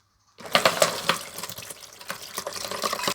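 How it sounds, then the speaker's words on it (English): Acorn ink liquid is poured through a coarse strainer into a container, a steady close splashing and trickling stream that starts abruptly and runs on without talk. "So first thing I'm going to do is use a pretty coarse strainer. Strain it into this container."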